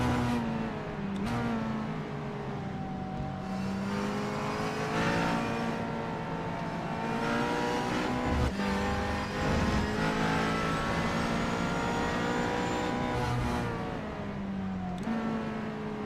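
A McLaren sports car heard onboard during a Pro-Am race, the engine loud and close as it revs up and down through repeated gear changes, with no talk over it.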